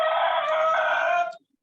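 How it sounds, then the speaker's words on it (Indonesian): A rooster crows once at dawn in Aceh, a loud, close, sustained call that holds steady for over a second and then cuts off into silence. "Baru subuh di Aceh Ustaz Sulaiman, ayam baru berkokok."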